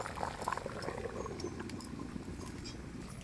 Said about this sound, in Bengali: মাংসতে জাল উঠে গেছে